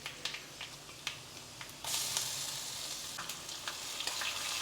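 Crushed garlic with skins on sizzles in oil in a pan for rasam, starting with light pops and stirring scrapes, then breaking into a louder, steady hiss of frying partway through.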